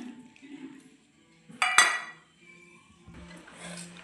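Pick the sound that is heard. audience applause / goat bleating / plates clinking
plates clinking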